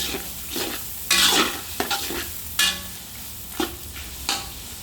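Onions fry in a pan with salt added while being stirred for a beef curry, a soft steady sizzle broken by several sharp scraping stirs of a utensil against the pan.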